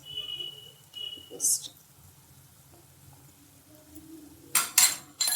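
A utensil clinks and scrapes in a pan as tofu is stirred with soy sauce, green chilli sauce mixed in, over medium flame; a few sharp, brief knocks separated by quiet stretches, with a louder cluster near the end.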